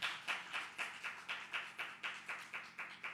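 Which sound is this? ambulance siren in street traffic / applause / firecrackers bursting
applause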